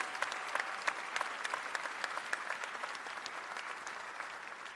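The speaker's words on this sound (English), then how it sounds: "Can we give our Secretary a round of applause," A crowd in the House of Representatives chamber breaks into sustained applause, a dense, even clatter of many hands clapping at moderate distance.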